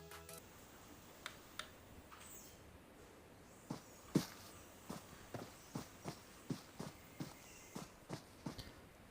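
Quiet footsteps of a player in PUBG Mobile approach in a steady, regular rhythm, sparse at first and then evenly paced, sounding somewhat distant against a low background hush.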